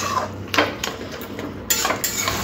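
A metal spatula stirring cooked banana flower in a pan, with scraping sweeps and clinks of metal against the pan in an uneven rhythm, close and clear with no talk.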